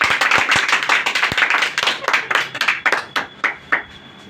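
A group of coaching-institute classmates claps for a student, loud close hand claps that start dense and gradually thin out into a few separate, slowing claps.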